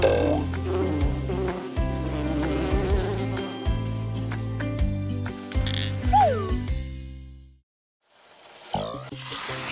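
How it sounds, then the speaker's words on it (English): A honeybee buzzes over bright children's song music, the insect drone mixed in with the melody until a short gap near the end, with no voices. "Honeybee."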